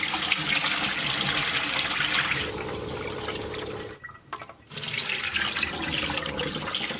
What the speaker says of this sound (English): I'm actually going to fill it up with water